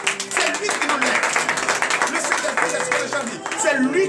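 Church congregation clapping and cheering in acclamation of the Lord, a dense, steady burst of applause and voices filling the room throughout.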